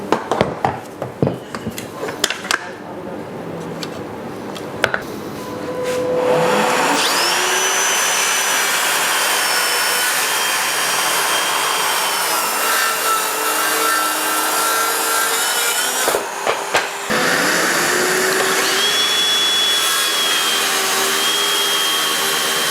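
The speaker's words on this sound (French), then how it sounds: "on va maintenant passer aux coupes avec une inclinaison de 45 degrés" Makita and DeWalt circular saws make 45-degree bevel cuts through wood, opening with handling clicks and then running up to a loud, sustained whine as the blade cuts. The sound briefly dips and clatters before a second long cut continues.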